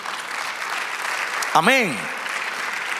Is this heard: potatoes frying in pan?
no